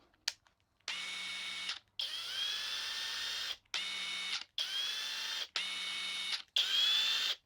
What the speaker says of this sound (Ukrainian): Давайте ще включу тоді на цій на першій швидкості флекс.